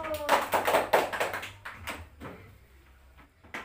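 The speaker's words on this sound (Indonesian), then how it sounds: "Beri tepuk tangan buat Mbak Ilu." Classroom clapping for a pupil, a short burst of several hands tapping and clapping for about a second and a half, then fading to scattered light taps and a faint voice.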